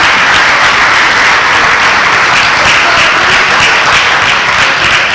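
Loud, dense applause from a large audience at a university athletics awards ceremony, honoring the evening's MC; thick continuous clapping holds at full strength throughout, close and unbroken.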